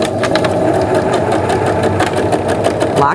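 Sewing machine stitching the seam of a large kids' floor pillow, a steady rapid mechanical whir with rhythmic needle ticks running continuously, loud and close.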